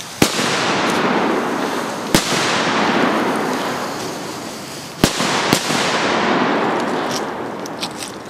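Scullies firecrackers burst one after another, sharp loud cracks each followed by a long hissing, crackling tail, with a few fainter pops toward the end.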